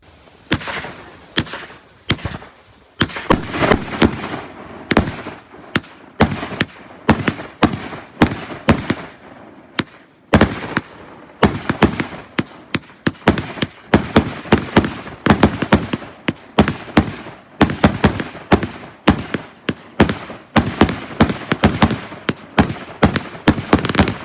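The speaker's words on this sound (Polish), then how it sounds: "Teraz, teraz leci kosteczka Big Boom od Eserpyro." Big Boom CLE4235 firework cake from Eserpyro fires a long, loud barrage of sharp bangs in rapid irregular succession, continuing for over twenty seconds outdoors.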